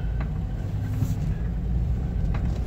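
A 1990 Toyota Land Cruiser driving in low range, with a steady, deep engine rumble and drivetrain drone that stays close and continuous throughout.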